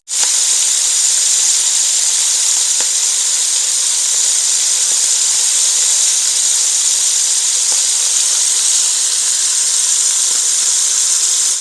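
Seafood searing in a hot pan while the pieces are flipped and another batch goes in, giving a loud, steady, close hiss and sizzle that runs unbroken throughout with no talking.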